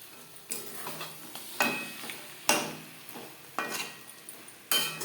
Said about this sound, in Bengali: পেঁয়াজের সাথে চিকেন বেশ ভালো করে মিক্স করে দেবো প্রথম পাঁচ মিনিট রান্না করব হাই ফ্লেমে